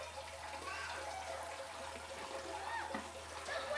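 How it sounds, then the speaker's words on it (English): Clutch fluid is poured into a motorcycle clutch master cylinder on the bench, a soft steady trickling pour that runs throughout at low level. "So we'll just pour some fluid in here."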